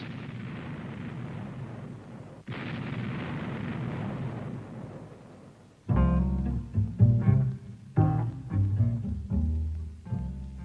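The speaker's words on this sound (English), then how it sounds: "Laser ranging fuses initiate bomb burst at the optimum height above the surface to achieve maximum effectiveness." A laser-fused bomb bursts above the ground in a 1985 military weapons setting: a loud, sustained roaring rumble, a second blast front about midway, then louder choppy pulsing booms, with no voices.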